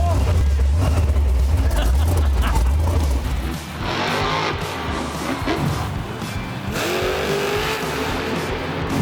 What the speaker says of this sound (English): now you're gonna press the start button. You're gonna hold it down, the motor's gonna start turning